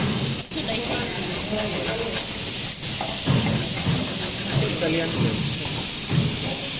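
Food frying on high heat in a pan, giving a steady, fairly loud hiss that runs throughout while a person talks over it.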